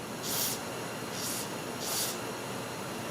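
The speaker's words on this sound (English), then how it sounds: "a little bit of lubricating penetrating spray" Three short hissing bursts from an aerosol can of penetrating lubricant sprayed onto a rusty rear wiper arm nut on a Dodge Journey, evenly spaced, close by over a quiet background.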